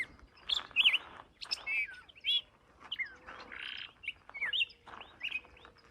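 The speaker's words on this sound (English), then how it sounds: "And the birds are enthusiastic too." Birds chirp and tweet in quick, bright bursts in a flower-covered canyon on the Pacific Crest Trail, several calls overlapping close by with short pauses between them.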